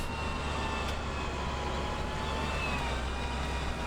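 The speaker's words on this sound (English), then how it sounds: "It's just a noisy gearbox, Hellraiser." A vehicle with a racing gearbox in the Farming Simulator 17 video game runs with a continuous loud mechanical whine and engine drone, steady throughout with no talk.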